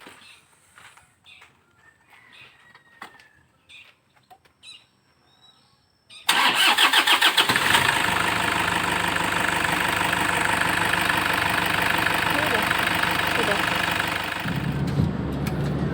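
A 2008 Toyota Innova diesel car sits quiet, then its engine cranks and fires with a sudden loud start. It settles into a steady, rough diesel idle that continues to the end.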